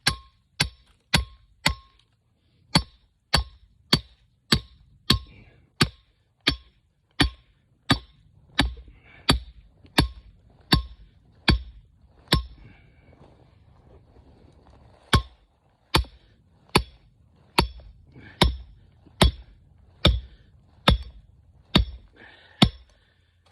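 A hammer drives a stake driver to pack down a trap stake during a coyote trap set, making loud, close metallic clangs in a steady rhythm of about two dozen blows with one short pause partway through.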